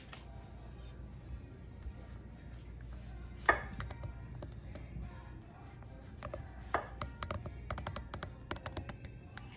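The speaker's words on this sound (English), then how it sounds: "you can skewer them with a little bit of these oranges that we're about to slice" A knife slices oranges into thin rounds for a cocktail garnish, making quiet, close, irregular taps on a board that grow into a quicker run of small clicks toward the end.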